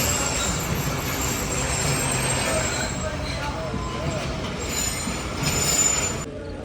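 Sukkur Express passenger train pulling into Nawabshah station in Pakistan in the early morning, a steady close rumble of rolling wagons with faint wheel squeal and clatter, continuous throughout and fading slightly at the end, with some voices mixed in.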